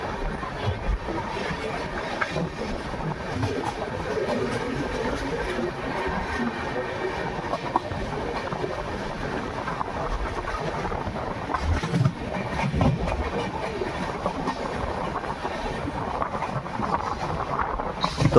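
Continuous rumble and rattle from inside the moving 22977 Jaipur Jodhpur High Court SF Express, a steady rolling roar with wind buffeting the microphone throughout.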